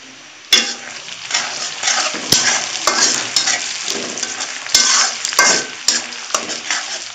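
Onions with fenugreek and spices frying in a pan, a loud crackling sizzle with frequent sharp scrapes and clinks of a metal spoon stirring against the pan, close up and without speech.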